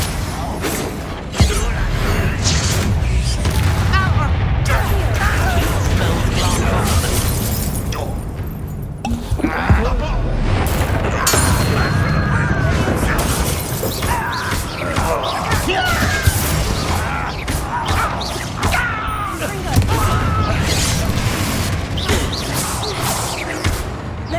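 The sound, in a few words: Confringo blasting spell explosions in Hogwarts video game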